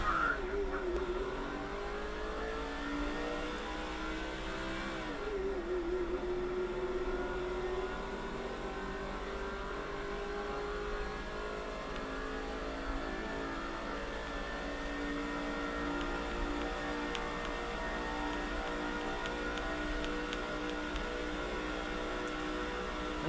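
A stock car engine in the NASCAR 05 video game, racing at Talladega at night, drones steadily as it accelerates, its pitch climbing and shifting through gears under a constant roar, with no talking.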